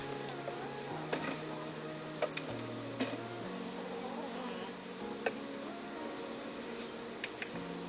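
Honey bees being weighed out for package bees hum in a steady, low buzz with shifting pitch, punctuated by a few faint ticks and clicks close by.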